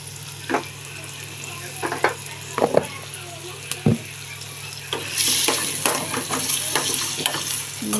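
Paneer pieces fry gently in a pan on low heat, making a soft sizzle punctuated by spatula taps and scrapes, with a louder hissing burst toward the end.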